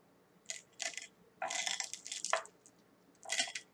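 Crisp crunches from biting into a fried potato latke, a few short bursts close to the mic with quiet pauses between bites.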